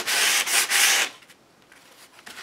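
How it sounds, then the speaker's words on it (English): Close, rough scraping strokes of a sanding block rubbing back and forth over a painted book page, three quick passes, then quieter light brushing. "I'm going to take my sanding block and I'm just going to rough this up a little"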